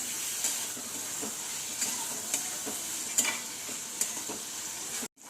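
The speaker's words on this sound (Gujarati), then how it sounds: "ટામેટાને પણ એવી રીતે શેકી લેવાના।" Tomatoes and onions sizzle steadily while roasting in a pan for sambar, with a constant frying hiss and occasional soft stirring scrapes, ending in a sudden cutoff.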